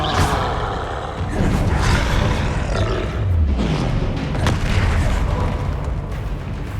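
Loud, continuous roaring and booming from Incendio fire spells being cast in the Hogwarts Legacy video game, a dense wash of whooshing bursts with no pauses.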